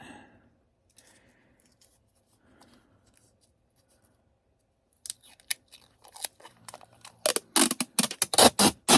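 Packing tape is pulled and torn in loud, crackling bursts while boxes are taped up, starting quietly with scattered handling noise and then growing into rapid, close ripping strokes.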